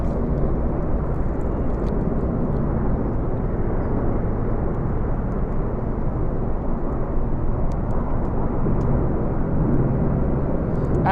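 Apache military helicopters flying past over London, a dense, steady low rumble of rotors and engines at constant loudness with no talk.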